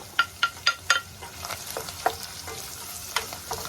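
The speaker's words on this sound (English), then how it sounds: "I'm gonna saute this till it's translucent" Onion sautéing in bacon fat for a creamy potato and carrot soup, a low sizzle punctuated by a quick run of four sharp spatula scrapes, then looser, softer stirring strokes, close and without talk.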